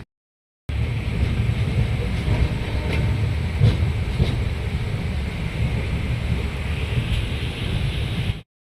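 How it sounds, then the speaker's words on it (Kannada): Inside a crowded moving sleeper train, a constant low rumble and rattle of the carriage rolls on steadily, with faint clanks over the roar and no talking. "ನಮ್ಮ ಟ್ರೈನ್ ಫುಲ್ಲಾಗಿದೆ"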